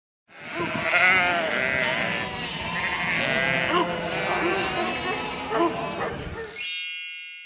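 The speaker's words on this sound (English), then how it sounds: "The correct answer is flock of sheep." A flock of sheep bleats continuously, many overlapping voices near and far forming a dense, steady chorus of baas, ending with a bright chime.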